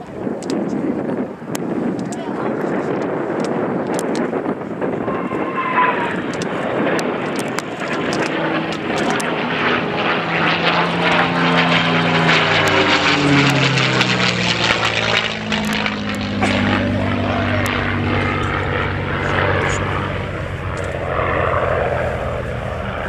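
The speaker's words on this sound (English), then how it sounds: "And that was the final pass of a typically elegant display of the Mustang" A P-51 Mustang makes a flying display pass at the Scampton Airshow, its loud propeller engine drone swelling and shifting in pitch as it sweeps past, with wind buffeting the microphone throughout.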